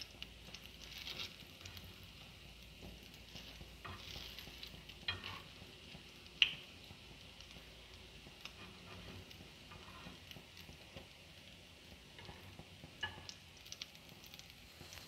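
Salty bread snacks fry in hot oil with a steady, soft sizzle and bubbling, punctuated by occasional sharp clicks and small spatters, continuous and fairly quiet with no voices.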